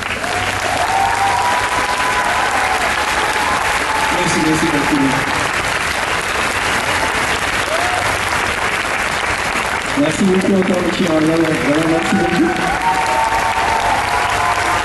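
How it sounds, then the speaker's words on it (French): Audience applause at Japan Expo after a live drawing session, a dense continuous clapping roar under amplified voices giving thanks in French. "on applaudit très fort"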